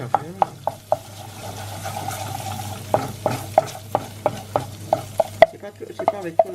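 A spoon stirs homemade coconut oil in a saucepan on the heat, giving a quick run of sharp metallic clinks and scrapes against the pan over a soft, steady sizzle.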